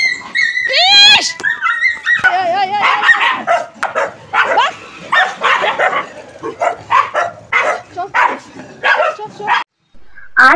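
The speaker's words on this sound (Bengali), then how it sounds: "রাস্তায় ডগিদের সঙ্গে, অন্য ডগিদের সঙ্গে আর কি মারামারি লেগে গেছে এদের" Dogs fight on a street, loud and close, with rapid yelps, barks and high whimpering whines following one another almost without pause.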